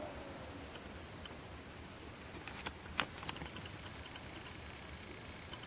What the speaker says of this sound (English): when it's off it seems to be making a ticking noise